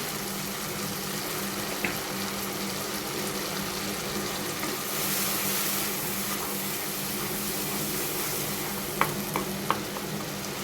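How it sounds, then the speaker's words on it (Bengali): Spices sizzle steadily in hot oil for beef achar, a continuous close frying hiss with a few faint stirring clicks near the end. "সরষাটাকে ভালো করে ভেজে নিতেছি, সরি এই মশলাটাকে"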